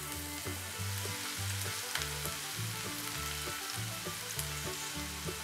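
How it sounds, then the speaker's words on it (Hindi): Chopped onion frying in a few tablespoons of oil in a pan gives a steady, close sizzling hiss that runs throughout, over background music with a pulsing low beat. "पैन में डालेंगे 2 से 3 टेबलस्पून ऑयल और 1 मीडियम चॉप प्याज।"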